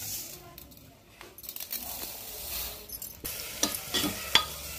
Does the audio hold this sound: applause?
no